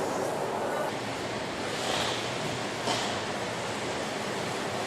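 Water jets blast a luxury car body during a spray test, producing a loud, dense, continuous hiss and rush of spray with slight surges, steady and close without any talk.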